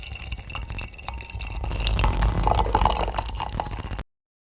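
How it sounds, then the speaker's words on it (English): Cooled chocolate mix poured into a glass, a steady liquid trickle and splashing that swells for about four seconds before stopping abruptly, close and clear with no talk. "Time to pour our chocolate mix in the glass, which has now completely cooled off."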